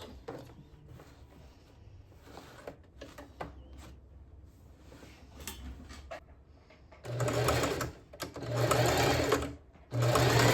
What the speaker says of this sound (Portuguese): vou passar uma costurinha aqui, ó, bem nessa posição